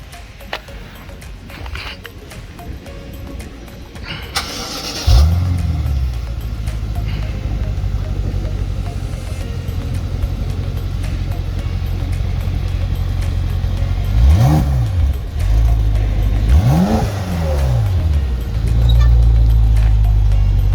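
A 2013 BMW X5M engine cranks and catches, settling into a low rumbling idle, then revs sharply twice before dropping back to idle.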